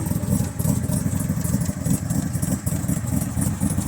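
A bright silver Backdraft Cobra 427 with a small block engine and optional oil cooler idles steadily nearby, its rumbling exhaust loud and continuous with slight uneven pulsing throughout.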